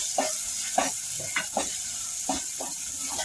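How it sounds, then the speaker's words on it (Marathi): Onion with chili, ginger and garlic sizzles while frying in a pan, giving a constant hiss under repeated scraping stirs about every half second, close and moderately loud. "त्याच्यात कांदा टाकलाय,"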